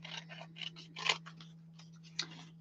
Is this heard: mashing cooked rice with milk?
no